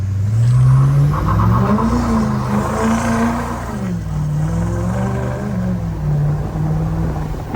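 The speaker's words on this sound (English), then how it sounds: "This is auto mode. Little spool up." Duramax L5P diesel truck turbo spooling up, a loud close engine roar whose pitch climbs and dips over several seconds with a rising whistle layered on top.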